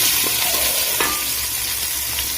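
Chopped shallots frying in hot oil with garlic and two or three green chillies for a homestyle chicken curry, giving a steady close sizzle and crackle with a few soft stirring scrapes.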